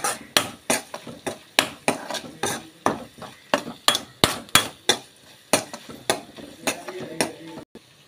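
Garam masala being stirred into palak paneer in a pan, with a utensil clattering and scraping against the metal in steady, repeated strokes, loud and close, with a faint sizzle beneath and no talking.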